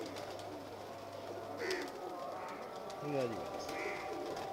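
Pet pigeons, a prized fancier's flock, coo softly in a low rolling rhythm close by, with someone talking over them and a few brief chirps mixed in.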